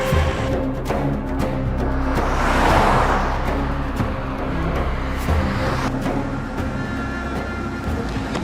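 Car accelerating hard in a chase, engine roaring close and rising to a swelling whoosh mid-way before settling into a steady drive with rattling knocks.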